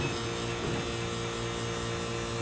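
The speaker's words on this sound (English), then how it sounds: "We'll turn on the vac press." A vacuum press for forming heated Kydex gives off a loud, steady electric hum with a buzzing edge that holds unchanged for the whole stretch, with no voices over it.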